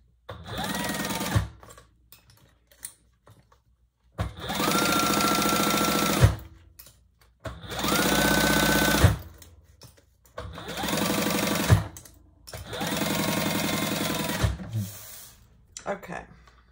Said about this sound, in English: we're just gonna baste that in place